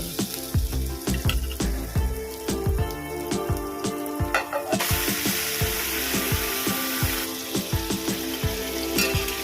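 Chicken pieces are sautéed in fried masala in a hot pan for Bengali-style bhaja masala chicken, a dense crackling sizzle punctuated by repeated spatula knocks and scrapes, close and steady with no talking.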